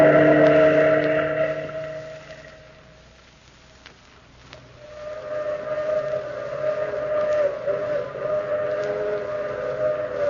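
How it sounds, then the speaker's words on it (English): A through express train's long, moaning whistle wails at night in an old-time radio horror drama, a sustained tonal cry that swells loudly, dips softer midway, then rises again and holds steady with no speech over it. "That's the long moaning whistle of the through express, wailing through the lonesome night, crying like a lost and anguished soul in the mountains."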